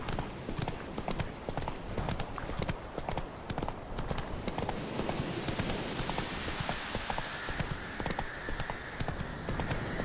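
Roach the horse trotting in The Witcher III, a dense, steady clip-clop of hooves throughout with a faint whinny, close and fairly loud, with brief voices in places.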